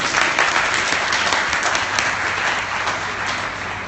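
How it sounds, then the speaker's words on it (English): Conference audience applauding, a dense, continuous roll of many hands clapping at close range that stays steady for several seconds. "Give him a round of applause."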